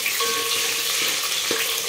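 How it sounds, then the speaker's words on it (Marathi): Ginger garlic paste sizzles and crackles steadily in oil close by, with a few light clinks of stirring and no voices. "तर छान तेलामध्ये परतून घ्यायचं याला"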